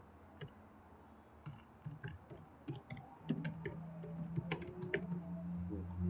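Someone types on a computer keyboard while entering data in software, producing quick, uneven bursts of close, crisp key clicks that grow busier toward the end.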